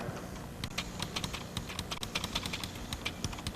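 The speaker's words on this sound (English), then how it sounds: "let's try some keystrokes over here in this editor" Keystrokes on a computer keyboard in a DOS editor, a quick irregular run of light plastic clicks and taps, fairly close and continuous, with no talking.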